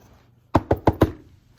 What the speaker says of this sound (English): Elizabeth grabbed the knocker and banged on the door again.